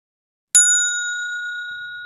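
A phone message notification gives a single clear, bright ding that rings out and slowly fades over a quiet background.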